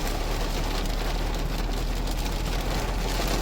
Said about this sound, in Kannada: ನೋಡಿ ಎಂತ ಮಳೆ ಬರ್ತಾ ಇದೆ,